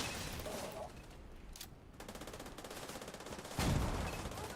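Rapid bursts of video-game gunfire rattle in quick repeated volleys at moderate loudness, with a denser, louder burst near the end and no talk.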